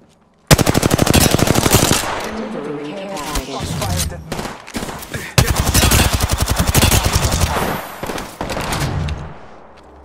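Rapid automatic gunfire from the shooter game Apex Legends comes in loud, sustained bursts of closely spaced shots with brief pauses between volleys, close and dominant throughout.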